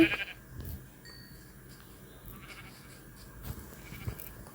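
Sheep in the video game Minecraft bleat in a few short, fairly faint calls spread over a quiet game background, with no speech.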